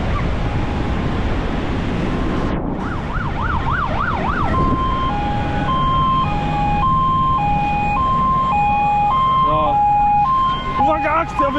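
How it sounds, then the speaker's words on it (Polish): Emergency rescue vehicles race along a windy Baltic beachfront in Łeba, their wailing sirens sweeping up and down and then alternating two tones over surf and gusting wind, with people talking nearby. "Teraz tutaj zastępy jadą ratownicze."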